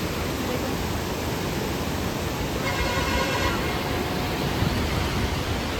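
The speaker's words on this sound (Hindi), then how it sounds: "इतनी भयंकर नदी उफान पे है, पिंडर नदी है।" The flooded Pindar river rushes in a loud, unbroken roar of churning water, close by and filling the whole stretch without letup during the monsoon season.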